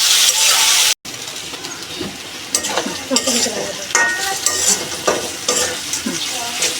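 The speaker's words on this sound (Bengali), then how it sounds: "পেঁয়াজগুলো একটু লাল লাল করে ভাজলাম" Onions sizzle and crackle steadily in hot oil in a pan while being stirred, with scraping strokes and spatula knocks on the pan; a louder burst of frying hiss opens before a brief cutoff.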